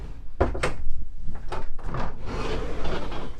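A pocket door in the bedroom of a 2021 Tiffin Allegro Open Road 32 SA Class A motorhome slides and knocks, giving a few close wooden thumps and a rolling scrape lasting a couple of seconds.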